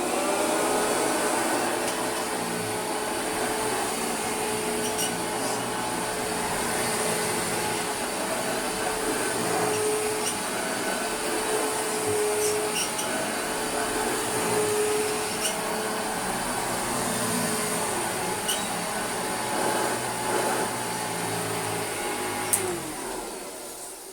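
Hoover Junior 1334 upright vacuum cleaner, restored, running on a rug with a steady loud motor whine and airflow roar throughout, minor bumps and rattles as it moves, cutting off near the end.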